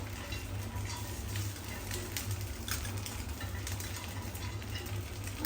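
Food fries in oil in a pan during festive Gudi Padwa cooking, a steady low sizzle with faint clinks running evenly throughout at moderate level, no talking.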